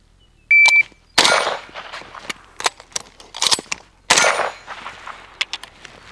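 Unsuppressed handgun shots at a range, a shot timer beep followed by sharp loud cracks in quick pairs and bursts, close and without talk.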